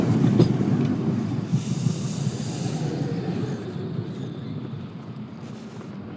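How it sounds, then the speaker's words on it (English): A tram passes through snowy streets in Poland, a loud, steady rumble of wheels and motor that slowly fades as it moves away. "And there's the tram for show."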